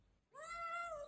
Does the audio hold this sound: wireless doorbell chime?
no